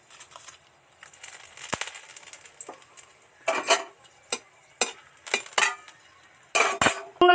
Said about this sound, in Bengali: শুকনো লঙ্কা তেজপাতা লাল লাল করে ভাজা হয়ে গেছে